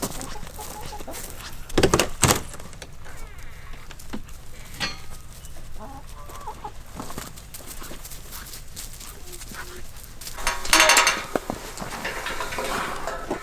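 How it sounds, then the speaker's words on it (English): Chickens cluck softly at close range amid scattered clatter and rustling, with a couple of louder knocks and a burst of activity late on. "Chickens!"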